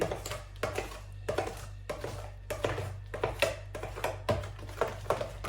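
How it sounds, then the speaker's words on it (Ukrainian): A spoon stirs and scrapes along the bottom of a multicooker bowl in repeated rhythmic strokes, with a constant low hum running underneath. "перемішую, мішаю, бо чую шкряботить на дно"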